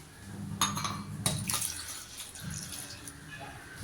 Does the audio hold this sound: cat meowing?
no